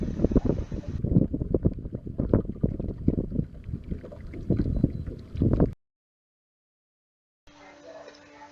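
Fishing boat trolling for white bass into the wind, with steady broadband wind rush and water noise against the hull running loud and continuous for several seconds, then a brief silence before faint boat sound returns.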